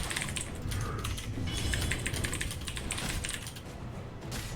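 Rapid clattering of computer keys during an online game coaching session, continuous and fairly close over steady background noise.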